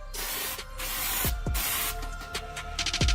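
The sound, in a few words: spray can spraying a light coat of paint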